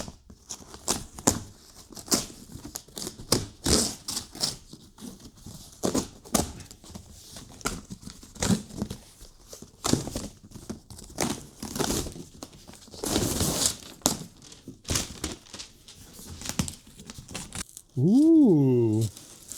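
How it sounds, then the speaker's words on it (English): Packaging on a heavy boxed farmhouse desk being ripped open: loud bursts of tearing and crinkling cardboard and plastic in uneven, rapid spurts, ending with a brief voice exclamation. "I'm just gonna like rip into it, I guess."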